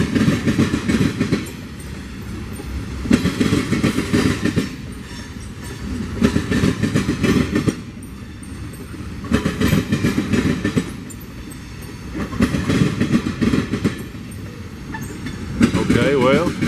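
A long freight train of box cars and center beam cars rolls past near a railroad crossing diamond at golden hour, its wheels clattering loudly and steadily in repeated rhythmic bursts across the whole stretch.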